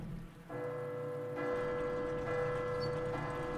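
A large bell tolls in the Resident Evil 2 Remake game, with about four slow ringing strikes spaced roughly a second apart, sustained and resonant over a steady rain-like background hiss.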